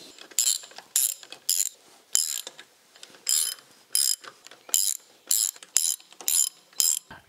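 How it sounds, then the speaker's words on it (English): Close, sharp ratchet wrench clicking in about a dozen short regular bursts as engine parts on an old Sportster motorcycle are bolted down, with brief pauses between strokes. "I haven't bolted them down, so let me bolt them down"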